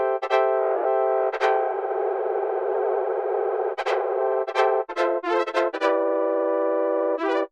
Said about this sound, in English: I'm going to try the keyboard tracking, which gives a different pitch for every key, so it'll modulate at a different speed.